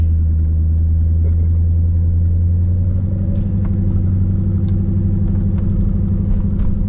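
A C4 Corvette cruising with a loud, steady low engine rumble and road noise heard from inside the car, with a few light rattles and clicks over the drone.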